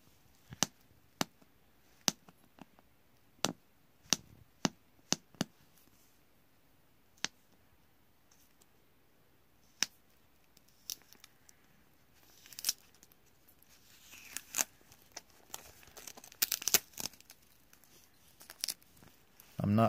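Tape being peeled and torn off vintage Pokémon card sleeves, scattered sharp crackles and snaps at first, then a denser run of tearing and rustling near the end, fairly quiet and close.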